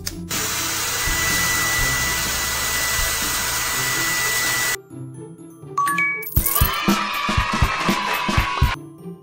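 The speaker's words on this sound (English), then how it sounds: "Turn on the hairdryer." A hair dryer blows in a cartoon pet salon makeup game, a steady loud whooshing hum for several seconds that cuts off, followed by sparkly jingling game effects.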